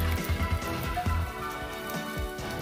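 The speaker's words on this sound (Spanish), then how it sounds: "look that, it's raining very very strong." Very heavy rain pours down outdoors in Bundi, India, a constant dense hiss of drops on surfaces with no talking.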